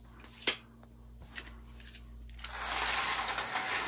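A Policar 1/32 scale slot car on its track, run from a thumb controller with a 9-volt power supply: a few light clicks, then a steady buzzing motor whine that swells in and holds to the end.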